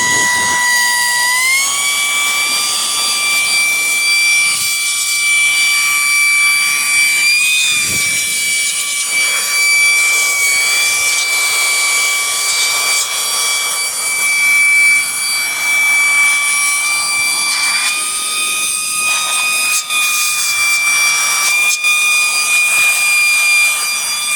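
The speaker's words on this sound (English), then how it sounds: "I've added this little blue cone on it, but it's also a blower to blow things out" A handheld electric blower fitted with a blue cone nozzle runs steadily at close range, a loud, continuous high-pitched whine with slight shifts in pitch and no pauses.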